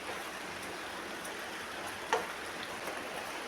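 Steady rain falls outdoors after a long dry spell, a soft even hiss of drops pattering on surfaces with an occasional sharper tick, fairly quiet and without voices.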